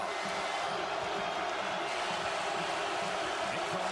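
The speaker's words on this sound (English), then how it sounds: "And here comes the crowd" Basketball arena crowd at a UCLA at Indiana game swelling into a loud, steady roar that fills the whole clip with no break.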